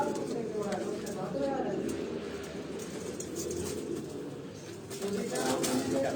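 Pigeons cooing near people, with soft low coos and some wing flutter under steady chatter and background noise, heard at moderate distance.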